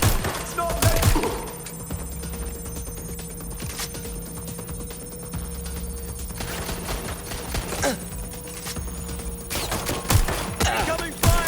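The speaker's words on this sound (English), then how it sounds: "Incoming fire!" Gunfire in the video game Watch Dogs: Legion on PS5: dense, continuous volleys of shots and sharp bursts over a steady electronic hum, with loud cracks near the start and end.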